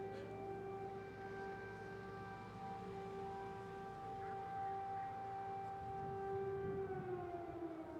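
A steady air raid siren wails over Independence Square in Kyiv, with sustained tones that slowly fall in pitch near the end, heard alone at a distance.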